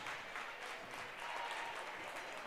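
A home crowd applauds at a women's college basketball game between LTU and Indiana Tech, a steady, even wash of clapping from many hands across the arena, moderately distant.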